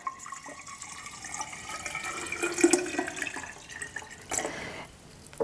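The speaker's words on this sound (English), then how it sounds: "So I like to add a little cold water to my jar." Cold water is poured into a jar while kombucha is being made, giving a trickling, splashing fill of moderate loudness that lasts a few seconds before tapering off.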